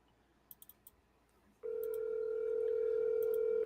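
A few quick dialing clicks are followed by a steady, loud electronic telephone tone that holds for about two seconds.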